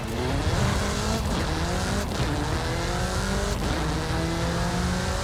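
Engine noise from a VUL 05RR track-focused supercar, a pre-production car in the racing game Forza Horizon 5, running loud and steady with revving tones that rise and fall and a hint of tire squeal, with no talk.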